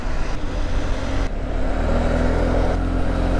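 Cars overtake a slow motorcycle climbing Kennon Road toward Baguio, their engines a steady, close road roar with a rising surge of passing traffic and no talk.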